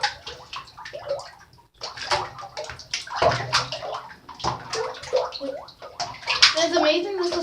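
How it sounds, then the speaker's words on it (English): Hands slosh and swirl through a bathtub filled with slime, producing wet gloopy splashing and gurgling that keep going throughout, while children talk over it. "when you put your hands in it, it actually is all slime right now"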